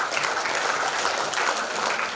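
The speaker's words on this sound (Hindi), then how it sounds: "जोरदार तालियों से स्वागत कीजिए हमारे क्लोजिंग सेरेमनी के चीफ गेस्ट का।" An audience at a school chess championship closing ceremony claps loudly and continuously, a dense, even wash of applause with no pauses.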